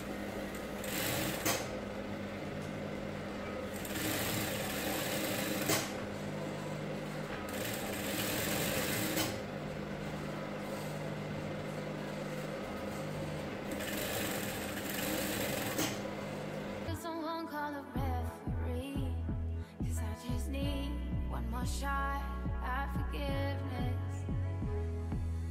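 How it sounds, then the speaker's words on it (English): A sewing machine stitches lining around a cowl neck top, running in long, steady bursts of fast mechanical whirring up close, pausing briefly between runs. Later the stitching turns into shorter stop-start runs. "Now we're going to go ahead and place the lining on this and sew all around"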